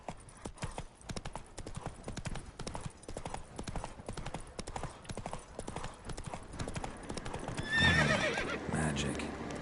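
Horse hooves clip-clop at a steady trot in The Witcher 3, with a neigh near the end among game music and ambience.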